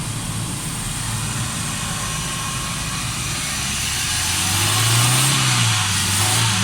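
Steady drone of a running Suzuki Alto 1000cc car engine with a pick-up, missing and fuel fault, loud and continuous at close range, rising slightly in pitch and strength partway through.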